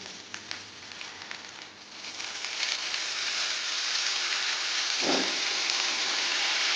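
Spring onion greens dropped into a hot pan on a low gas flame for a snail (gugli) curry, giving a steady, close broadband sizzle that swells after the first couple of seconds, with a brief low thump of stirring midway.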